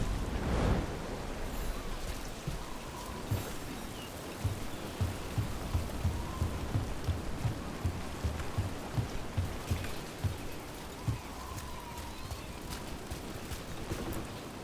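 Steady rain falls in the fantasy video game Dragon Age: The Veilguard, a constant soft hiss with faint pattering drops running throughout and no voices over it.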